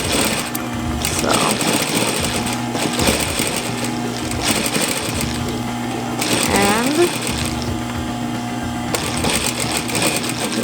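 Sewing machine stitching around a fabric scrub cap, a steady close mechanical whir running in bursts with brief pauses, someone talking over it.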